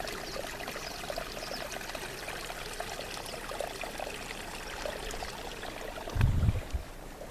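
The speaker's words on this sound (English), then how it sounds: "There's a creek comes down." A mountain creek at high altitude flows in a constant broadband rush, steady and moderately close, with a brief louder low thump near the end.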